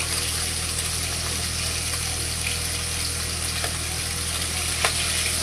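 Fish fries in a pan in a home kitchen, giving a loud, constant sizzling hiss with no break and no talking.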